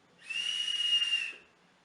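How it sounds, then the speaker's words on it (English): A single strong, steady high-pitched whistle of forced air through the nearly closed airflow of a Jwell DUPLX, holding for about a second before fading quickly, close and clear. "you get a really strong whistle"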